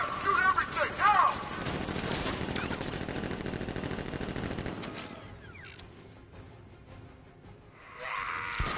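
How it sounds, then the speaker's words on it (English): Sustained automatic gunfire from guards in Batman: Arkham Knight, a dense rapid fusillade of shots that rattles on for several seconds before thinning out, with a shout over the barrage. "Guard! Open fire! Shoot everything! Now!"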